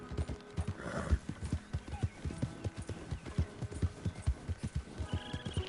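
Steady clip-clop of a horse's hooves at a walking pace in Red Dead Redemption II, with a brief whinny near the start and a low background hum.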